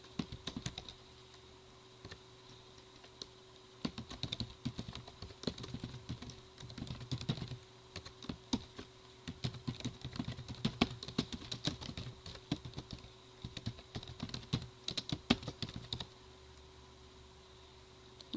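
Entries being typed into Microsoft Word 2007 or 2010 on a computer keyboard, quiet close key clicks in irregular runs and short pauses over a faint steady hum, with no voices.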